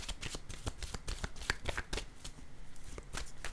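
Tarot cards being shuffled and drawn, a quick run of crisp flicking riffles and soft slaps repeating steadily, close and alone with no voices.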